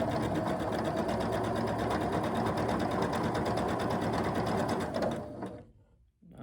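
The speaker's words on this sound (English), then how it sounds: "I'm going to go ahead and sew 1/4 inch away from one side." A sewing machine stitches quilt block pieces a quarter inch from the edge, running fast and steady and close, then stopping near the end and leaving a short quiet gap.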